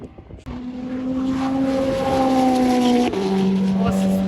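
A vintage race car at the Nürburgring old-timer Grand Prix sweeps past at speed, its engine note rising loud and then dropping in pitch as it passes, with a person speaking nearby.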